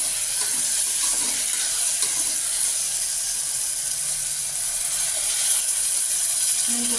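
Water pours steadily into a pot of green gram and millet sambar, a continuous hissing splash that stays even and fairly loud throughout, with no talking.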